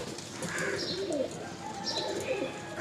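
Pigeons coo in soft repeated calls at a busy pigeon market in Uluberia, with a few chirps mixed in and no talking.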